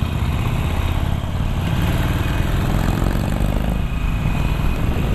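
A Harley-Davidson Iron 883 motorcycle engine rumbles steadily with a muffled, low throbbing tone, loud and continuous as if heard while riding.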